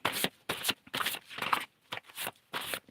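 Tarot cards being shuffled up close, a run of brisk riffling bursts separated by short pauses, with no talking over them.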